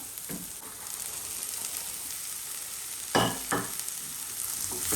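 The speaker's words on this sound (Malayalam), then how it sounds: "ഇനി ഇതിലേക്ക് നമ്മുടെ പയറിട്ട് കൊടുക്കാം" Green beans frying with softened onions in a pan for a Kerala mezhukkupuratti stir-fry, giving a continuous close sizzle with two quick scraping stirs partway through and no voices.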